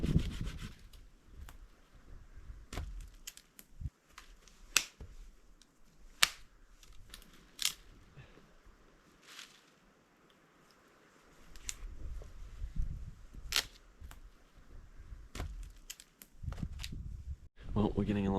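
Firewood logs, twigs and sticks being stacked into a camping hut, with close knocks and dull wooden clunks scattered irregularly over a rubbing, shuffling background, growing busier near the end.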